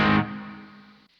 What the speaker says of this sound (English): And I'm hearing delay,